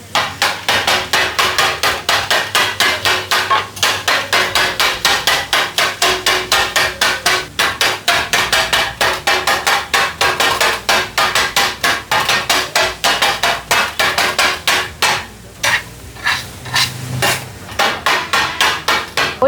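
Kothu parotta chopped with metal spatulas on a hot griddle at a Madurai mess, a fast, loud, steady run of sharp metallic clangs repeating for the whole stretch, with a brief break and rhythm change near the end.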